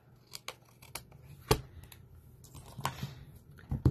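Scissors snip through paper card in a few short, crisp cuts spread across a quiet card-making table, with small handling taps and rustles between the cuts and no one talking.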